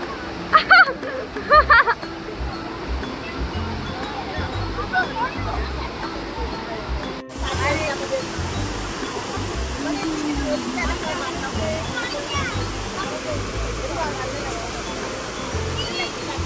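Steady rushing water of the Gayathri River pours continuously over a check dam, a broad even roar with some brief louder clatter near the start.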